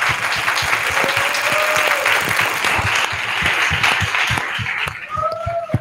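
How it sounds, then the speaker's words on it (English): Loud, steady applause from a conference audience for a panel, sustained throughout with a few whoops rising above the clapping near the end. "Can we give a round of applause for our esteemed panel?"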